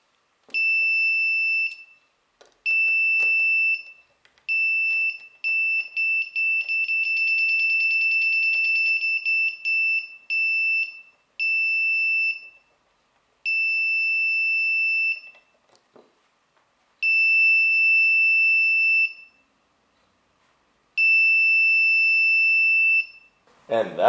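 Shrill piezo alarm fed directly from a 555 timer output pulses on and off in an irregular run of loud beeps, some short and choppy, with one longer warbling stretch, and no talk over it.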